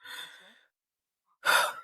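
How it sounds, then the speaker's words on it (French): A breathy exhale trails off into silence, followed by a sharp, close, deep intake of breath. "prendre une grande inspiration"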